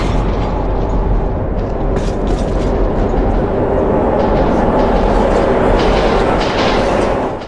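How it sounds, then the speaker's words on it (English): A loud, continuous rumbling roar with rattling, clattering overtones swells steadily as a train rushes through a metro tunnel close by in Metro 2033. "advises me to move for the train coming"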